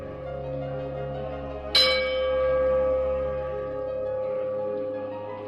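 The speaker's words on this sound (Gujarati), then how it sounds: "મંત્રમુગ્ધ કરી દેનાર આ મંદિરના ઘંટનો અવાજ" A temple bell in Kashmir rings out with one sharp, bright strike and then a long shimmering hum that slowly fades, set against a steady low background drone.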